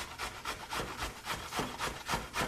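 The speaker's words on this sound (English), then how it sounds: "Cheese grater, sweet potato. Hold it at an angle and just go at it." Raw sweet potato is scraped against a cheese grater held at an angle, making rhythmic rasping strokes about four per second, close and steady, with no talking.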